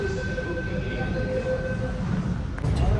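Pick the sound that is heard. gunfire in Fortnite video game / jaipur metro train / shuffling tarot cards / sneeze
jaipur metro train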